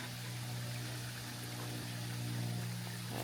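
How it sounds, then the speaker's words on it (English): Stream water runs steadily beside a hiking trail on Bakers Mountain, a continuous close rushing and trickling with no talk over it. "So for now I'm enjoying the water sounds."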